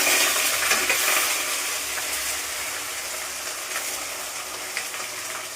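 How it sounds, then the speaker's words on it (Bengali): Eggs fry in hot oil with a loud, continuous, close-up sizzle that holds steady throughout, with a few faint crackles and no talking. "তেলেতে ডিম দেওয়া হয়ে গেছে, ফুটছে।"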